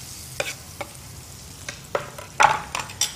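Onions cooking in a pot for black dal, with a few scattered scrapes and light clinks of stirring over a faint sizzle, the louder strokes clustered near the end.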